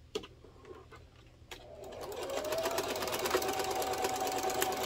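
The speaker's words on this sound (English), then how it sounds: "And we're going to sew straight across at 1/4 inch seam allowance for both sides." A sewing machine runs a straight quarter-inch seam on fabric for a car trash can, starting after a few quiet clicks and settling into a steady, close, fast rhythmic whirring hum.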